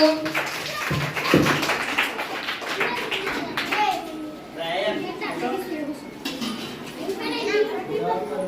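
A group of children at an outdoor children's camp in Laxmapur, Medak, clap their hands together in a brief burst of taps, while lively children's voices and chatter carry on throughout.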